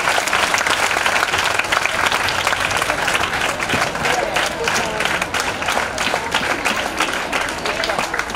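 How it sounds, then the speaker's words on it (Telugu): A classroom audience claps steadily for a woman teacher after her lesson. The dense, loud applause fills the room and holds at an even level throughout, with a few voices mixed in. "ఒక్కసారి క్లాప్స్ ద్వారా మరి మేడం గారికి అభినందనలు అందజేయరా"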